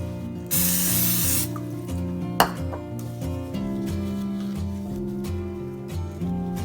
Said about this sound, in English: Spray the back of it.